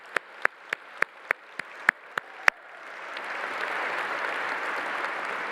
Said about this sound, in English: please join me in an energetic round of applause for everyone I've just mentioned